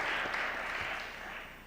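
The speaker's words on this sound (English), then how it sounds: "So please give them a round of applause for all the work that they do in Montgomery County" Audience applause for arts award honorees at a county arts and humanities awards ceremony, a steady broadband wash of clapping that gradually fades over a couple of seconds.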